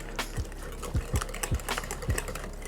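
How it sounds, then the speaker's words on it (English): A whisk beats a cheese mixture for elote-style chicken wings in a bowl, making about six rhythmic clacking strokes roughly half a second apart, close and fairly soft over a low steady hum. "Break out the whisk and mix to combine."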